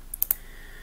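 Two quick, sharp computer mouse clicks close by, with faint room noise and no talk.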